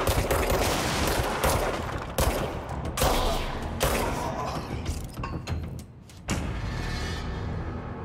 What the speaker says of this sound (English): Someone is shooting at me though.